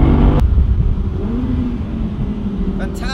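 Audi R8 Spyder with four-wheel drive accelerating on the road, a steady loud engine drone heard from inside the cabin, rising slightly in pitch, with a brief sharp knock near the start.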